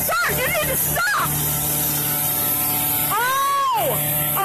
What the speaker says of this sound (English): Can you turn your sprayer off? You're spraying me with poison right now.